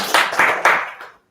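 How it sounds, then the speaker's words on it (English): An audience at a junior stage-speaking session claps to welcome a judge to the stage: a short burst of hand clapping that swells in a few quick surges and then cuts off, fairly close and loud. "Let us welcome our judge,"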